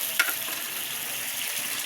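Anchovies fry with onion and dried chili, giving a steady close sizzle and crackle from the pan with one brief clink near the start.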